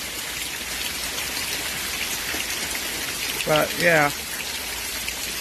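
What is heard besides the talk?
summer rain falling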